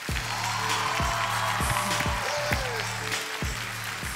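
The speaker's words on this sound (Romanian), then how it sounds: "aplauze pentru dânsul" On a Romanian television comedy show, the studio audience applauds steadily under a music bed with a thumping beat, the clapping holding at an even level throughout.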